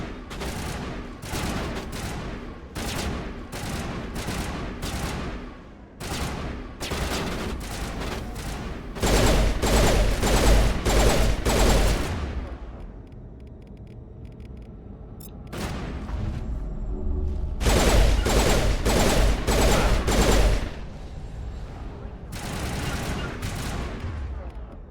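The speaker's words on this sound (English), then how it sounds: "this gun overheats too much" Rapid gunfire from a weapon in the video game Mass Effect comes in loud repeated bursts of shots separated by short pauses while the gun overheats, with heavy booming stretches and quieter gaps between volleys.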